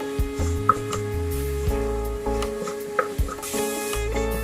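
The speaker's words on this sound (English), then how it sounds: "fry the onions a bit." Onions frying in oil in a pan for taco filling, with an irregular series of close knocks and scrapes of a utensil against the cookware over a steady hum.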